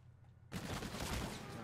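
Gunfire in a video game shooter: a loud burst of rapid, sustained shots breaks in abruptly after a brief quiet moment and continues to the end.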